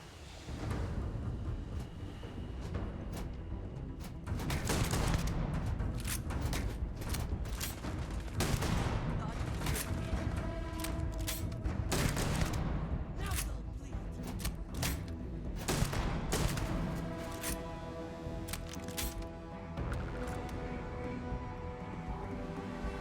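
Repeated shotgun blasts in the video game Starfield, loud booming reports with echoing tails, firing in irregular bursts throughout amid other game noise, with no talking.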